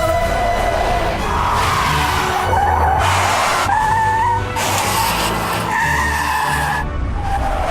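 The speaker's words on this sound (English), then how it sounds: "Brake test coming up." A car's tires squeal and skid repeatedly during a brake test, a loud, close, continuous screech with several rising and falling pulses over engine noise.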